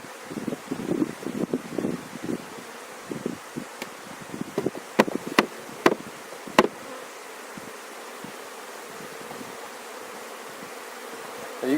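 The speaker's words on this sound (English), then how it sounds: "I want to kind of shake these bees down a little bit." Honey bees buzz as a hive is shaken down outdoors, with a swelling insect drone, several sharp knocks and rustles near the start, and wind noise over the microphone.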